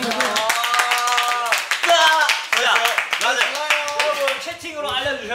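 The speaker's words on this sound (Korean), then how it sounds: "박수!" Rapid hand clapping rattles throughout, mixed with several voices talking and laughing loudly over it.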